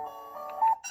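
A short electronic alarm tone from a kids' alarm clock sounds, a steady beeping pitch that briefly shifts near the end.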